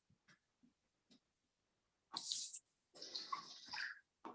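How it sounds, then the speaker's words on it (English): A pressure cooker set under running water to release its steam: a few faint clicks, then a loud hiss and splash of water for half a second, followed by a longer rushing, sputtering burst. "now he put it under water to release the steam"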